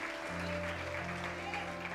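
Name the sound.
applause for Jesus in a church service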